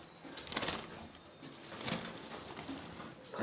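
A bird calls with soft, repeated cooing notes, faint and somewhat distant, over low rustling background noise.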